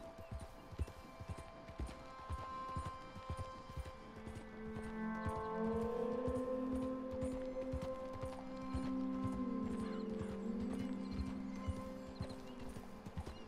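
Horse hooves clip-clop in a steady walking rhythm in Red Dead Redemption II, with a brief snort and head shake partway through, close and clear over a low game ambience.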